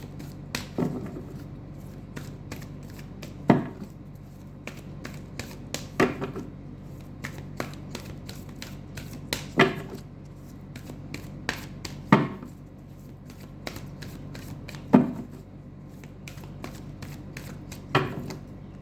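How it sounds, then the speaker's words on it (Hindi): Deity cards are shuffled and drawn for a card reading, heard as sharp, close clicks and slaps of card stock at irregular intervals in a quiet room, with no talking. "सबसे पहले मैं भगवान जी का एक कार्ड निकालती हूँ"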